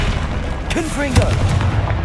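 A booming Confringo fire-blast spell from Hogwarts Legacy, one heavy explosive burst with a rumbling tail, with a voice crying out over it in the middle.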